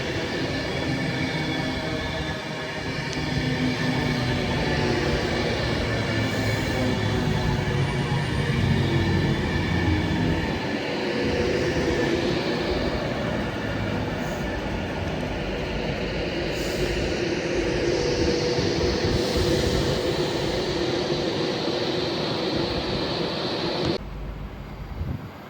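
Class 319 electric multiple unit 319-157 passing through Nuneaton station on the West Coast Main Line, a loud sustained rumble and rattle of wheels on rails with squealing tones, close by, lasting over twenty seconds before easing off.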